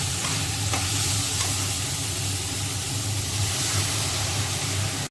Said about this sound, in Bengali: মশলাটা অনেকটা ভাজা ভাজা হয়ে এসছে